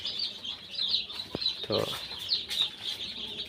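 Tiger-breed chickens cluck and chatter in a fairly close, busy flock, with a brief flutter partway through. A voice speaks a word over the birds.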